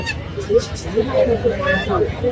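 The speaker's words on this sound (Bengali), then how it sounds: "এখানে কিছু দেশি হাঁস দেশি হাঁস এবং রাজহাঁস আছে" Local ducks and geese honk in short nasal calls at a poultry market in Mirpur, Kushtia, close by and repeated over a background of crowd babble and people talking.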